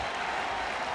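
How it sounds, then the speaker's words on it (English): A baseball crowd roaring at Yankee Stadium during a 1983 Yankees–Red Sox game, a dense, steady wall of cheering and applause through the whole moment with no letup. "this crowd is roaring"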